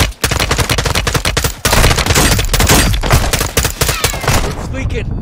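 Dense automatic gunfire from a Call of Duty Modern Warfare 2 firefight rattles on almost nonstop, loud and close, with bursts overlapping and a brief lull, while a voice speaks over it.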